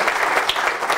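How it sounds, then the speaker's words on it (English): Loud, dense applause from a council presentation audience in Eastbourne, a brief burst of many hands clapping close by with no voices over it. "can I have a big round of applause for David for being here?"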